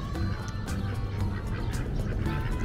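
Several ducks quack continuously and close by, overlapping calls in a busy, noisy chorus.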